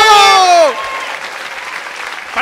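A television studio audience breaks into applause, a steady wash of clapping that follows a sung note and continues evenly to the end.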